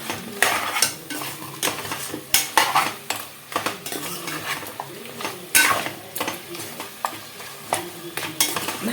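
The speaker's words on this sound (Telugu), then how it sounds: "బాగా కలుపుకుందాము. పైనుంచి కిందకి, కింద నుంచి పైకి అంతా" Goat head curry (talakaya kura) stirred in a pan: repeated scraping and clinking of a metal spoon against the pan over a low sizzle, a steady close rhythm of strokes with no talking.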